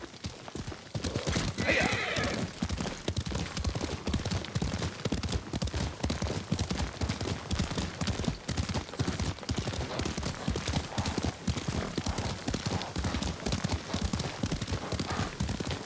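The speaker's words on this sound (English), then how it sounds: "Lord Sakai taught me to ride a horse" Rapid, rhythmic hoofbeats of a galloping horse in the video game Ghost of Tsushima pound steadily throughout, close and loud, with a brief whinny early on.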